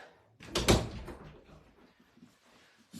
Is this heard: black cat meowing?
no